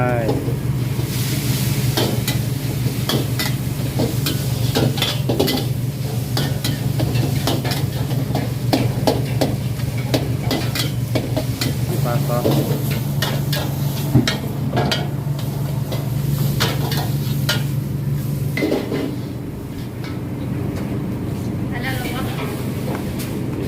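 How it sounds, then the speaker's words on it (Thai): Dry suki is stir-fried with suki sauce at a food stall, a loud, busy sizzle with rapid metal scraping and clanks over a low burner roar, with voices talking throughout. "บ่าววันกำลังพัดสกี้แห้งพี่น้องเอ๊ ใส่น้ำซุกี้ลงไป"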